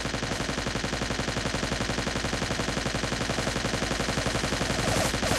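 Rapid, evenly spaced gunshots from a gun in the video game Trespasser, a steady loud automatic-sounding rattle continuing throughout without pause.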